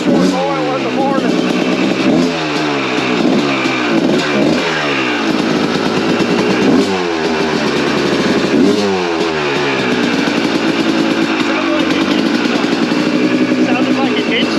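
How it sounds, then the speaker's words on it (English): A small engine sputters to life and revs repeatedly, rising and falling in several sharp bursts before settling into a rough, steady idle. "Sounded like an engine start."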